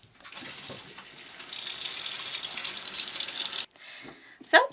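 Water pours steadily into the tub of a Giantex portable compact 13 lb mini twin washing machine, a close, continuous rushing splash that stops abruptly, followed by a few brief clunks.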